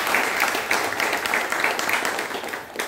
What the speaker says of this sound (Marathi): त्यासाठी मी त्यांच्यासाठी एक जोरदार टाळ्या वाजवा असं मी तुम्हाला